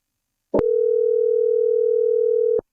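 A single telephone tone sounds while a call is being placed, one steady electronic beep of about two seconds, clean and alone against silence.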